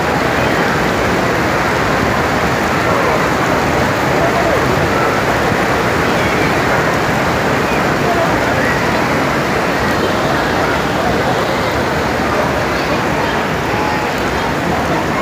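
Heavy torrential rain pours down at the Prophet's Mosque in Medina, a dense, steady roar of downpour that stays loud and unbroken from start to finish.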